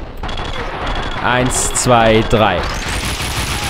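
Bursts of gunfire from the video game Max Payne 2 crackle amid game sound effects, while a voice counts aloud over the shots.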